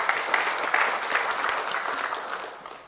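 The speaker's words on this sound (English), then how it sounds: "Give yourself a round of applause" Audience applause at a book discussion event, a dense burst of many hands clapping that starts strong and gradually tapers off over a few seconds.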